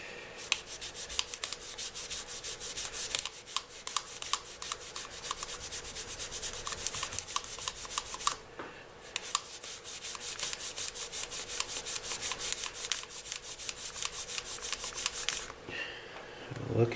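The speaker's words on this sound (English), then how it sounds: "Okay, I'm just gonna keep polishing here." A rag is rubbed briskly over the frets of an electric guitar, making a steady, dense scrubbing hiss in quick back-and-forth strokes, close and continuous with a short pause midway.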